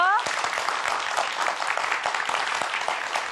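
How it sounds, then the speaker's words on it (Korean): A studio audience on a science TV talk show applauds as a math education professor is welcomed: loud, dense clapping that runs steadily through the whole clip. "큰 박수 주세요."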